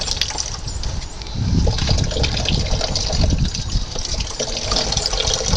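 Water pours and gushes steadily into an off-grid spring box fitted with watertight bulkhead fittings, a continuous close rushing fill with no talk.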